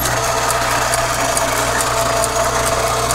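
Engine of the X231 prototype vehicle running at a steady idle, a close, even drone with a low rumble and faint rhythmic ticking throughout.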